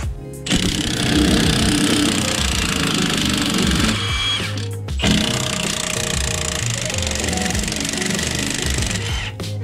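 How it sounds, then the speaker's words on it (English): An impact gun with a 15mm socket removing a sway bar link nut on a 2007-2018 Silverado or Sierra during a leveling kit install, heard as two loud, sustained hammering bursts up close, separated by a brief pause. "grab a 15mm socket on an impact gun or ratchet, and you want to pull it off right from the bottom"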